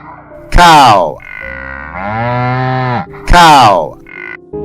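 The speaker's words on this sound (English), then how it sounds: "cow." A cow moos loudly and close by, two long, deep bellows with a quieter lowing sound between them.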